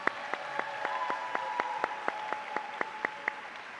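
An audience applauds at an education awards ceremony, though the picture shows a sparse, evenly spaced clap of about two per second, more like a single person or a small group than a full crowd.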